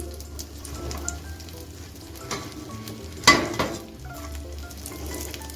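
Eggplant pieces fry in oil in a pan over medium heat, a steady close sizzle with a few soft utensil clinks and one sharper clatter partway through, no talking.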